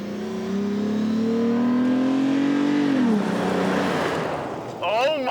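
A 4x4 Toyota 4Runner with deflated tires, in four-wheel drive on an off-road trail, revs hard and climbs in pitch as it accelerates, then drops off into rough rumbling noise and a brief mechanical rattle at the end.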